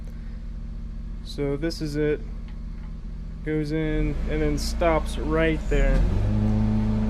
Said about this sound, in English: if you can hear that in the background, my dad is actually mowing right now